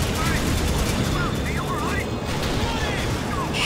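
Gunfire in the World War II shooter Call of Duty 2: a loud, continuous rattle of rifle and machine-gun fire with dense overlapping shots and no pause, heard alone without talk.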